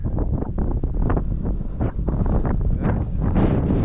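Strong wind buffets the microphone on the Gulf coast at Fort Morgan, Alabama, loud gusty rumbling roar that swells and fades, with no one speaking.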